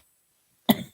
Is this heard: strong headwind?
no